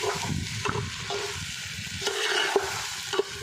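A thickening vegetable stew is stirred in a pan, with soft repeated scrapes and clinks of the spoon over a low bubbling sizzle, close and fairly quiet, with no talking.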